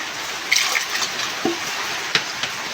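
Running tap water pours steadily while something is washed, with a continuous splashy hiss and a few brief knocks and clatters of handling close by.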